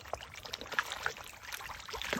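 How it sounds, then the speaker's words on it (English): Fish feed poured into a catfish netting pond during treatment of a disease outbreak, giving faint, scattered splashes and trickling water sounds over soft outdoor background. "I'll just pour in my feed and I mix."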